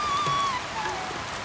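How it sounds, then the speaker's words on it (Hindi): Heavy rain falling at dawn over a village, a steady, dense hiss of drops with a faint high whistling tone on top, even and continuous throughout. "तेजी से बारिश होने लगी।"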